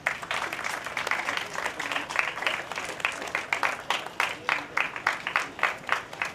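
An audience at a police medical camp event held on a parade ground applauds, a steady patter of clapping from a moderate crowd that grows more rhythmic and uneven toward the end, somewhat distant.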